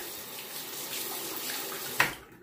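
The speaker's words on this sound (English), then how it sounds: "I'm going to rinse the razor one more time here." Tap water runs steadily into a sink as a King C. Gillette safety razor is rinsed beneath it, a close, even hiss ending with a brief splash or knock before the flow cuts off.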